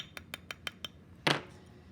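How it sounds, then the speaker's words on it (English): A small hammer taps 24 gauge wire on a bead ring, five quick evenly spaced light metallic ticks followed by one louder, fuller strike, close up and without talk. "I'm going to hammer it just a little bit"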